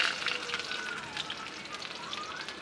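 Chopped onions fry in hot oil in a kadai, giving a steady, close hiss and crackle that fades slightly over the few seconds.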